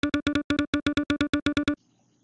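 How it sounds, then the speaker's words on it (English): A phone screen reader on an app lacking accessibility metadata gives a quick run of identical short synthetic voice blips, about fifteen evenly spaced clicks, then falls silent. "When an app doesn't provide accessibility metadata, screen readers cannot access it and sound like this."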